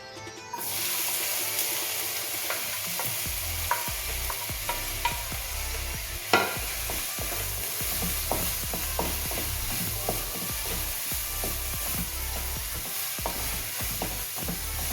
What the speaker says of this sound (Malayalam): നമുക്ക് ആദ്യമായിട്ട് ഗ്യാസ് കത്തിച്ച് സവാള വഴറ്റാം.